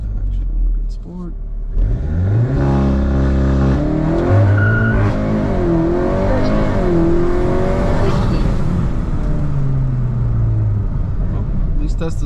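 A tuned 2022 Audi S3 accelerates hard from a standstill in a 0 to 60 run, the engine rising loudly through the revs with audible gear changes, while people talk and react over it.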